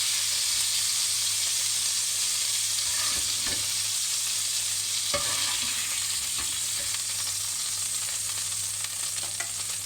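Kofta and potatoes sizzle and fry steadily in a pan, with a few soft stirring scrapes and clinks breaking through the continuous hiss; no one speaks.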